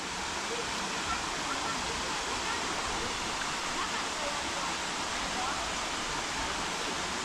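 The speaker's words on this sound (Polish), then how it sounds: "Moi drodzy, przyszliśmy na ten wodospad. Wodospad jest tutaj, jak widać, taki malutki." A small waterfall runs in Istria near Pazin, a steady, close, dense hiss of falling water that stays constant throughout with no talk.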